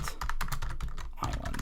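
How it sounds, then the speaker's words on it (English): Fast, close clatter of keys on a computer keyboard, a steady run of sharp clicks with brief pauses, loud and alone without voices. "Trying not to capture my loud ass typing."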